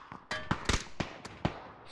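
Video game gunfire played through budget headphones: about seven sharp, fairly faint shots in an irregular cluster over roughly two seconds, with quiet gaps between them.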